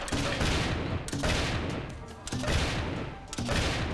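Bursts of dense, rapid gunfire in a boss fight in the game Turnip Boy Robs a Bank, loud repeated volleys with brief gaps, continuing steadily throughout.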